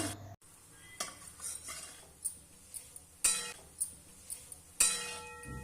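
A spoon stirring gooseberry pickle scrapes and clinks against a metal pot in irregular strokes, sharp taps standing out every second or so over a quiet background.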